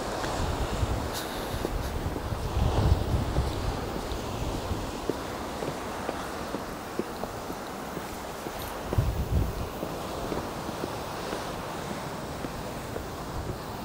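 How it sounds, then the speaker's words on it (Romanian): Strong wind roars steadily across the microphone on the Danish coast, a continuous rushing noise with gusty low rumbles and no voices. "bate vântul foarte tare"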